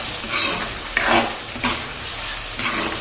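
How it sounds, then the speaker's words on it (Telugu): Tomatoes cooking down in a pan for chicken curry, a steady sizzle and bubbling with a few spoon-stirring scrapes, close and fairly loud, no talking. "టమోటాలు సాఫ్ట్గా అయ్యేంత వరకు ఉడికించుకోవాలి"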